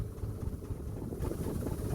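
A low, steady canal boat engine rumble runs throughout alongside water and wind noise, with no voices.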